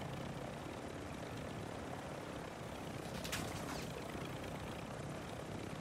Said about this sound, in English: We have another helo chasing us.